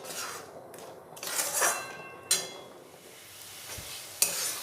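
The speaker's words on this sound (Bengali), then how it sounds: "দিয়ে এই মশলাটা খুব ভালোভাবে কষিয়ে নেব।" Spice masala for a Bengali fish curry frying and being stirred in a pan: scraping utensil strokes and metallic clinks over a soft background sizzle.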